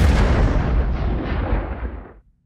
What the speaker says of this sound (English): Eat this ball of fire, Steve. Kaboom.